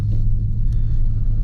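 A Scat Pack with a six-speed manual idles while warming up, a steady, loud low rumble that holds even and close with no revving or talk.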